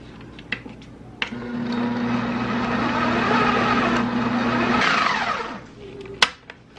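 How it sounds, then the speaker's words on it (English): A kitchen blender whirs steadily for about three and a half seconds, blending dip ingredients that include cooked peppers for an Easter appetizer. The motor sound is loud and close, with short clatters before and after. "I'll go ahead and blend this together first."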